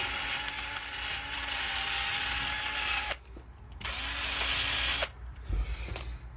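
A wire wheel on a power tool whirs loudly as it scrubs loose rust off the edge of a Land Rover Discovery TD5 hub. There are two sustained bursts of about three seconds and two seconds, with clunks and rattles in the short pause between them.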